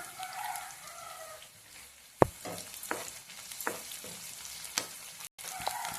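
Curry leaves and onion bulbs frying in a hot pan in a village kitchen, with a steady crackling sizzle broken by sharp clicks and scrapes of a spatula stirring, close up and with no talk.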